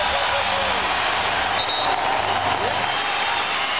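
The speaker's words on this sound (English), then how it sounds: "and the crowd is loving it." An arena crowd at a Utah Jazz basketball game cheers and applauds in a continuous dense roar, with a commentator talking over it.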